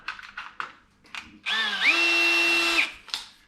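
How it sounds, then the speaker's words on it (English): A power drill whirs up and bores a pilot hole into timber for about a second and a half, preceded and followed by short scraping and handling noises. "Do I need to drill a pilot? Oh, nah. Yes, drill a pilot."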